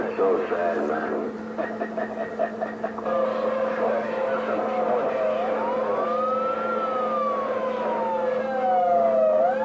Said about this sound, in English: That sounds like Pedro with the siren.